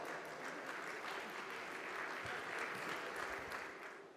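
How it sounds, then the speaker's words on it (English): An audience at a chartered accountants' conference applauds to welcome a speaker, a sustained, even wash of clapping that tapers slightly at the end, heard from a distance and fairly faint. "please welcome Dr. Bimal Chaja with a warm round of applause"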